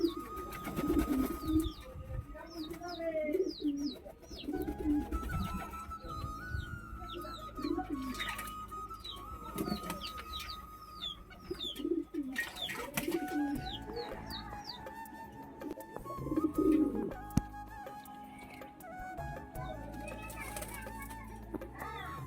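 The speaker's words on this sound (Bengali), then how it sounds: "কবুতরগুলো যখন চান করে গাইস" Pigeons bathing on a hot day, soft repeated cooing and splashing flutters nearby, with children's voices and other chatter mixed in.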